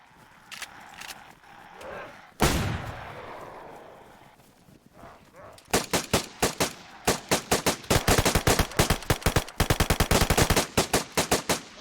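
Video game gunfire, starting with a few scattered shots, then dense, rapid, sharp bursts in the second half, fairly loud and close, with someone talking at times in between.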